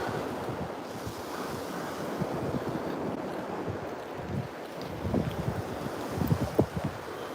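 Gentle ocean surf washes onto Sanibel beach at sunset, a soft continuous hiss of waves with light wind buffeting the microphone and a few slightly louder breaking swells toward the end.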